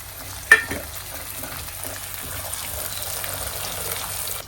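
Garlic and a ground paste of coconut, ginger and coriander fry in oil with a steady hiss. A sharp clink of a utensil sounds near the start, and gentle stirring continues after it.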